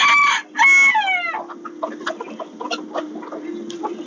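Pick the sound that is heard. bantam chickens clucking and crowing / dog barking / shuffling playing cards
bantam chickens clucking and crowing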